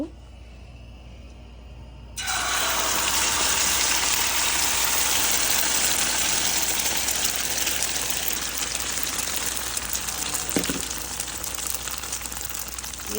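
A beaten egg mixture hits hot oil in a pan and breaks into a sudden loud, steady sizzling hiss that holds for about ten seconds.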